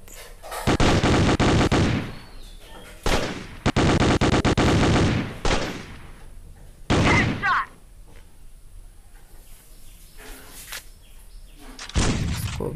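Video game P90 automatic gunfire scoring headshots, long loud sustained bursts of rapid shots repeating several times with short quieter gaps, a voice speaking between bursts.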